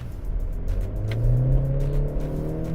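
A 2017 Honda Civic 1.5 Turbo RS engine revs under the accelerator, a steady idle drone rising into a louder climbing whir and then holding, heard close from inside the car.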